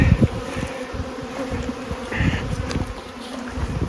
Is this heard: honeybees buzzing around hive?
yes